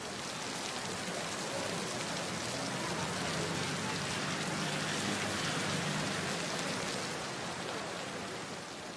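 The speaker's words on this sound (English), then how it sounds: "nothing can protect you from this kind of downpour" Heavy rainy-season downpour during an all-day outdoor celebration in Africa, a dense steady roar of rain hitting surfaces that stays loud and unbroken throughout, with no voices.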